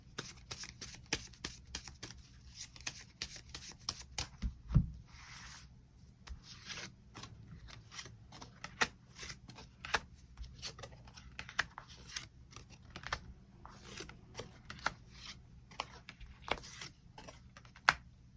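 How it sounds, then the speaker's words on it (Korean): Tarot cards being shuffled and drawn: quiet, close papery riffles and flicks in rapid irregular bursts, with soft taps of cards against a surface, no talk. "추가 카드로 일별로 월요일부터 일요일까지 어떤 하루하루를 보내게 될지 추가 카드 뽑아보도록 하겠습니다"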